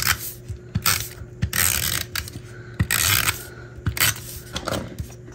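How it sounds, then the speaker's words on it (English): A tape runner applies adhesive tape in quick ratcheting clicks and scraping rolls, close and fairly loud, in short irregular bursts. "Then I'm gonna take my tape runner"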